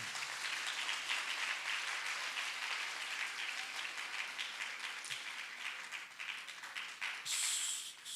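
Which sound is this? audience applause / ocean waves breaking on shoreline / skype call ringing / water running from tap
audience applause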